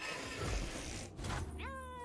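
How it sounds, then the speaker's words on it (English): A cartoonish cat meow from Vaun, a noisy cat character in the Legends of Runeterra card game, rises clearly at the end after a burst of game effect noise, with no talk over it. "I think they went a little overboard on the noises with Von to be honest, with the meows."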